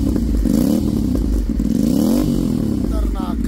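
An Aprilia RS 457 fitted with an SC Project carbon superbike exhaust revs repeatedly up and down, its engine note rising and falling in loud, close sweeps.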